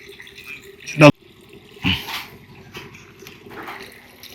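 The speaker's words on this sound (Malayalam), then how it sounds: "ഇത് നമുക്ക് നല്ലപോലെ വാഷ് ചെയ്യണം" Clam meat being washed in water for village cooking: a couple of short splashy sloshes, one sharp and close, then softer water movement, with low background noise between.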